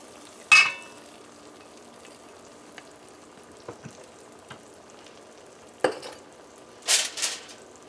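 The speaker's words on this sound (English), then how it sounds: "now we are adding our eggs, which we have whisked for a little bit" Whisked eggs poured over potatoes frying in a pan on a low stove, producing a burst of sizzle followed by quiet crackling, a few small clicks and two louder hissing splashes near the end.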